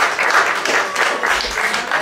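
An audience at a public event applauds together, a dense, even patter of many hands clapping that holds steady throughout.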